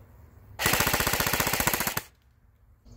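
A Cybergun Thompson 1928 airsoft submachine gun firing one full-auto burst of about a second and a half, a fast, loud, evenly spaced rattle of shots that then cuts off.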